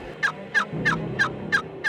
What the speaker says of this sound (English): Yeah, they're gobbling